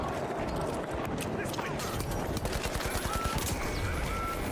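Turret gunfire in the video game The Finals, a steady rapid stream of shots that grows into a regular pulsing rhythm toward the end, loud and close amid other game noise.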